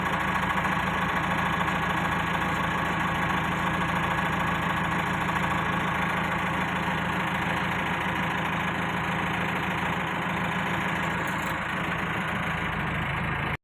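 An engine idles near a pond with a steady, even rumble and vibration for the whole stretch, then cuts off abruptly at the very end, leaving silence.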